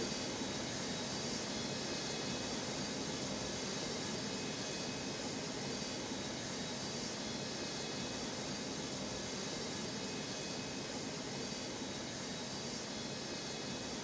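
Jet aircraft on runway 29 at Newark airport: a steady, moderately faint broadband engine roar that holds evenly throughout with no distinct events.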